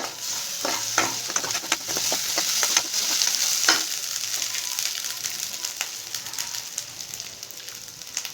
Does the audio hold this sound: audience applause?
no